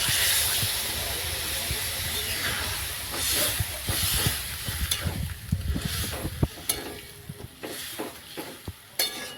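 Moringa drumstick curry in a pan, with water just added and the spiced vegetables starting to simmer: a steady hiss with bubbling, scattered clinks and stirring scrapes that grow more frequent toward the end.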